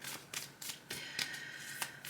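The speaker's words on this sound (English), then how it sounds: "I'm shuffling off camera because my setup's a little bit different." Tarot cards are shuffled by hand close up, in quick repeated riffling bursts at an irregular rhythm, quiet and alone with no voices.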